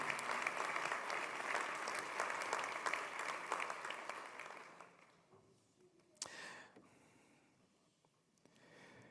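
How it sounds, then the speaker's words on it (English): A synagogue audience at a sanctuary dedication gives a round of applause for the Capital Campaign Committee, dense clapping that fades after about five seconds, followed by a sharp brief noise and quiet room sound. "Could I please get a round of applause for the Capital Campaign Committee?"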